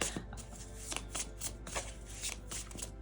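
Tarot cards are shuffled close by in quick, repeated riffles and soft slaps, a steady crisp papery rhythm heard on its own.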